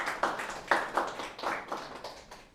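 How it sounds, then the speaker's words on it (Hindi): An audience of interview seminar attendees claps for themselves, a short, faint patter of scattered hand claps with a few sharper individual claps, no talk over it. "एक बार अपने लिए तालियां बजाएं"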